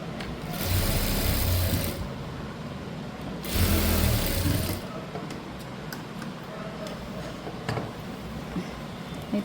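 A sewing machine stitches a blouse in two loud whirring bursts of a second or so, with fabric handling and quieter mechanical clicks between them and someone talking throughout.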